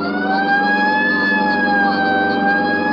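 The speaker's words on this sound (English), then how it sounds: "Right, I'll hit the siren." A police car siren in a radio drama wails continuously and loudly for the whole stretch, steady rising and falling tones over a running engine, with no talk.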